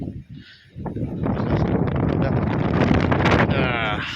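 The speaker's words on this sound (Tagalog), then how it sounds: "Ay, grabe. Ang hangin." Loud, blustery wind roars against the microphone almost throughout, rising after a brief quieter opening, with a voice faintly mixed in.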